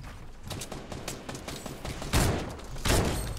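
Scoped assault rifle fire in the Fortnite video game, a fast crackle of distant shots building to two louder, heavier bursts near the end, with no talk over it.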